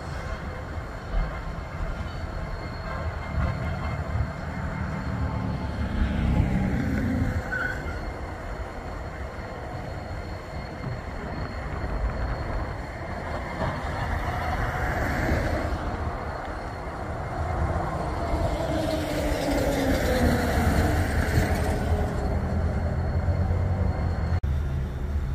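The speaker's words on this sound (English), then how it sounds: "This was a 2x2 northbound coal empty." A northbound empty coal train with two locomotives up front and two at the rear rolls through river bottomland, a steady mid-distance rumble of wagons with wheel squeal and clanking rising and fading over the long pass.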